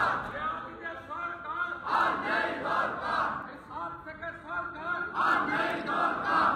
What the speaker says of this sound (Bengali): বাইরে বিধানসভার দালানে বিদ্রোহী স্লোগান তুলেছেন বিজেপি বিধায়করা